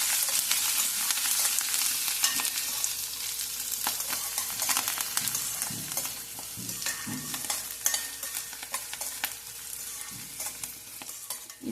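Green chillies and curry leaves fry in hot oil with a continuous bright sizzle, broken by occasional stirring scrapes and soft knocks, close and steady with no voices.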